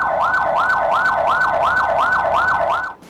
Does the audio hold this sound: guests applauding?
no